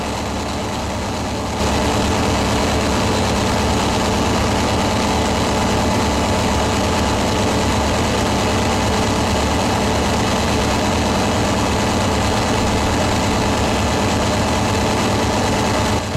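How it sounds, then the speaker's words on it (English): A large 16-cylinder D399 diesel engine aboard a tugboat rumbles steadily in the engine room, a loud, dense, unbroken drone that starts abruptly after a brief quieter moment and continues without pause. "On stormy nights at sea, the D399's steady rumble down in the engine room is the surest promise of safety for the"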